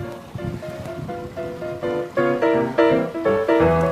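Sea waves of up to 150 cm in a force 4 wind wash around an amphibious car afloat, with repeated loud splashes and surges growing stronger, along with rushing wind.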